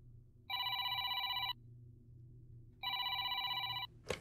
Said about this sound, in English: Oh, no, the phone rings.